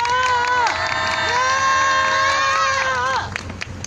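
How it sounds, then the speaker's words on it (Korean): A demonstration crowd at a Wednesday rally on the Japanese military sexual slavery issue cheers loudly and steadily, with sustained, rising and falling voices for about three seconds before fading. "박수로 맞이해 주십시오."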